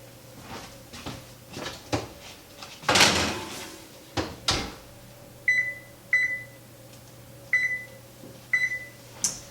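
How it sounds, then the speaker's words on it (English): Oven door thumps and clatters open and shut in a home kitchen while an applesauce cake goes in to bake, followed by a run of short electronic beeps as the oven is set. "So let's put this in the oven."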